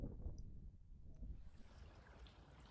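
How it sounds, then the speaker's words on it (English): A fast-running creek flowing steadily outdoors, a continuous broad rush of water with some wind buffeting on the microphone, no voices. "Just wanted to show you the creek is really running today."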